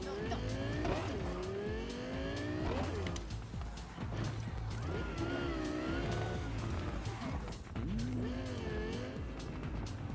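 Car driving in Cyberpunk 2077: a constant engine roar with rising and falling revs, tire squeals and whooshing traffic throughout, loud and close, with some speech mixed in.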